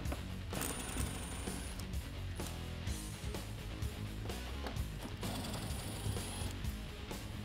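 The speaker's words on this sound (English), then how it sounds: "Grab a 7 millimeter socket and remove the one bolt in your wheel well." A 7 mm socket ratchet clicks steadily while it backs out a bolt in the wheel well of a 2014-2015 Silverado, the dense mechanical clatter continuous and loud for the whole stretch.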